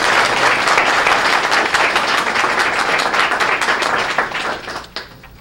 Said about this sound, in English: Let's have another round of applause for the students.